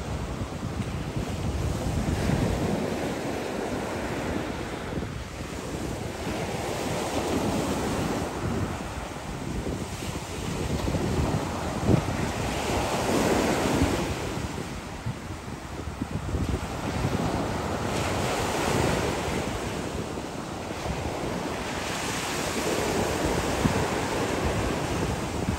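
Sea waves roll onto Castelldefels beach near Barcelona, a steady loud wash of surf with slow swells and heavy wind buffeting the microphone throughout.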